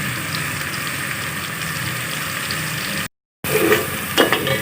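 Onions frying in hot oil, a steady close sizzle that cuts out briefly and resumes with a few soft stirring scrapes, no talk.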